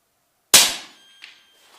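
A single sharp shot from an RTI Prophet II .30 caliber air rifle during a tuning session, loud and close with a quick decay, followed by a faint metallic tick.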